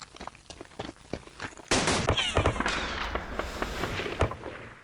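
Rifle gunfire from the wartime strategy game Campaign Series: West Front, Operation Sealion: a sudden burst of crackling, popping shots that keeps rattling on irregularly, fairly loud with no talk.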